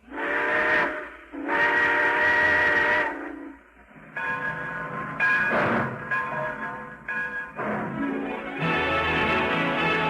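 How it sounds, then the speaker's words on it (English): Steam train whistle used as a radio sound effect as the train pulls out, sounding several long blasts with brief breaks between them, loud and close, alone without talk. "All aboard! Well, sir, it looks as though we're ready to pull out."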